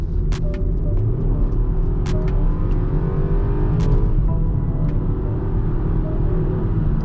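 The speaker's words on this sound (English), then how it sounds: "Do a little pull here with the windows up." Catless Dodge Challenger pulling hard, heard from inside the cabin with the windows up: a deep, loud exhaust rumble and drone that holds steady as the car accelerates, with faint clicks and ticks over it.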